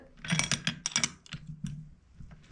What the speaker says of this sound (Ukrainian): Усі три болти закручуємо однаково.